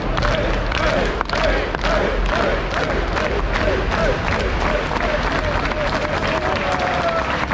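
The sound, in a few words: audience clapping and cheering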